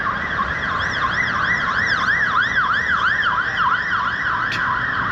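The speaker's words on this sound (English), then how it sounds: "there's coppers just with their sirens blaring" A police siren in Prague wails, sweeping up and down repeatedly in a rising-falling pattern, loud and fairly close over low traffic rumble.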